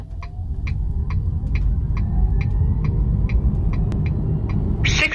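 In normal mode, a JAC iEV S4 electric car accelerates from rest: constant low cabin rumble with a thin motor whine slowly climbing in pitch and a regular faint ticking throughout.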